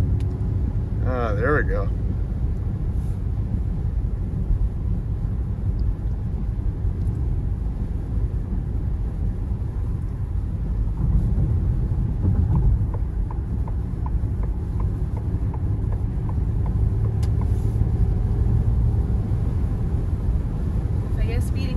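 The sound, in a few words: Ford Mustang Mach-E electric car accelerating hard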